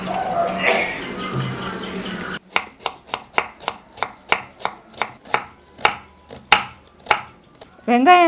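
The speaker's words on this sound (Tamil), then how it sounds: "வெங்காயம் நம்ம கொஞ்சம் அப்படியே சன்னமாக கட் பண்ணணும்." Large onions sliced thinly lengthwise on a board for samosa filling, about a dozen crisp knife strikes in an even rhythm, close and distinct, after a stretch of background noise.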